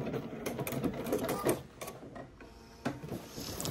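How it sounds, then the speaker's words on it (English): A sewing machine stitching in the ditch at the center back of a pants waistband, giving a soft, rapid run of rhythmic mechanical ticking, quiet and close, with a few brief clicks. "We just want to stitch in the ditch."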